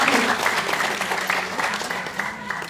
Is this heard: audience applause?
yes